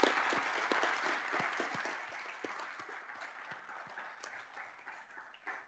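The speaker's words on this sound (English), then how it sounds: "Can we give them a round of applause" Applause from a crowd at a board meeting, steady clapping that gradually thins and fades, with a few scattered louder claps near the end.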